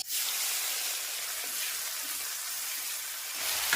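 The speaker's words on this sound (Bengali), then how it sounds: "সেই তেলের মধ্যে দিয়ে দিচ্ছি ফোড়নে গোটা জিরে, দিয়ে দেব গ্রেট করে রাখা পেঁয়াজ।" Whole cumin seeds and grated onion fry in hot oil, giving a bright, steady sizzling hiss that starts abruptly and holds evenly at close range, fairly soft, with no voices.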